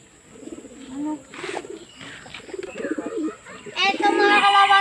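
Pigeons, fancy off-colour birds kept by a young fancier, coo softly in a loft, their low calls overlapping with talk and louder birds near the end.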